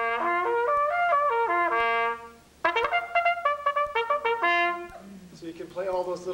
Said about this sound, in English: Bugle notes essentially are in a series that sound like this.